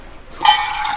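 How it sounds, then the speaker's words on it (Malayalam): Water is poured into a pot of pineapple pieces while cooking pineapple pulissery, a short close splash and fill that starts abruptly and continues as a steady liquid rush. "കുറച്ച് നമുക്ക് പൈനാപ്പിൾ വേവാൻ കണക്കിന് കുറച്ച് വെള്ളം ചേർക്കാം"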